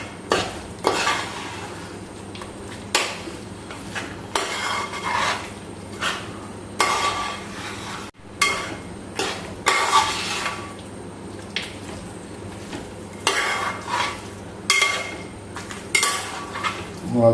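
Beef pickle stirred in a pan with a spoon, giving repeated scraping and clinking strokes against the metal in irregular bursts over a faint sizzle, close and fairly loud.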